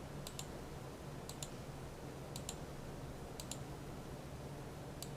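Mouse clicks while drawing a spline line in 3ds Max: about five evenly spaced double clicks, crisp and faint over a quiet low hum, with no speech.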